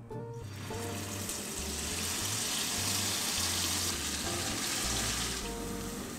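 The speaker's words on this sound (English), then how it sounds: "I'm going to start frying the spice paste." Spice paste for a Malaysian Nyonya fish curry fries in warm oil in a pan over medium-low heat, a loud, continuous, close sizzle under background music.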